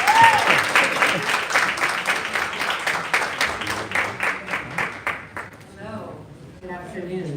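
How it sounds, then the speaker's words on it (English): A conference crowd bursts into loud applause that gradually thins out into scattered claps as it fades. "Let's give a huge round of applause for Kasia Resareska."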